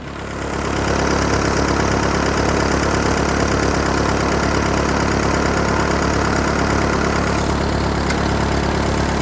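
A Ford 8N tractor engine idles close by, loud and steady with an even low rumble and faint knock, running for about nine seconds without any speech.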